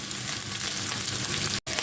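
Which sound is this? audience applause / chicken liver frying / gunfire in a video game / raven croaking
chicken liver frying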